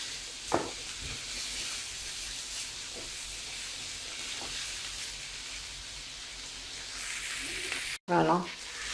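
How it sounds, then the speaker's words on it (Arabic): Garlic fries in a pan with a steady, close sizzle and hiss that carries throughout, broken by a few faint clinks and a brief dropout near the end. "توم، نقليها هكذا شويه."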